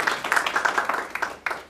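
Brief burst of audience applause at the opening of the 5th Asian Films Festival in Nigeria, loud and close with irregular clustered claps that thin out and taper off quickly.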